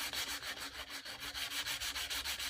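Final sanding of a wooden door: steady, close back-and-forth rubbing strokes in a quick, even rhythm, around a dozen passes, with no talking.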